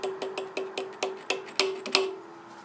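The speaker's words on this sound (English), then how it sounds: "Just got to tap it in without putting a burr or anything." A hammer taps a tight handmade key into a Triumph Tiger Cub's primary-side assembly with about nine light, metallic, ringing taps in a steady rhythm, close and clear, the last few a little harder.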